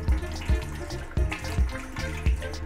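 Tap water splashes over raw fish in a sink as it is rinsed clean, a steady running stream broken by about six louder irregular splashes and sloshes, close and fairly loud, with no voices.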